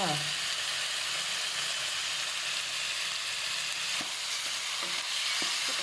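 Pork belly stir-fries in a hot wok with red curry paste, fish sauce, oyster sauce and seasoning sauces. The dish also holds celery and spring onion. A dense, steady sizzle plays close by, and a few sharp utensil clinks come near the end.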